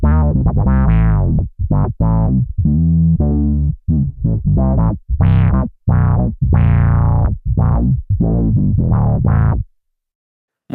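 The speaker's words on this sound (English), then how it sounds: "This also has the envelope filter engaged, and it sounds like this." An electric bass runs through a Darkglass Anagram with fuzz and an envelope filter engaged, giving a loud, gritty, wah-like sweep on each plucked note. It plays a phrase of separate notes on its own and stops just before the end.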